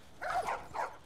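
Dogs in The Last of Us Remastered give a short pair of barks or yips, fairly faint and close together, with no speech over them.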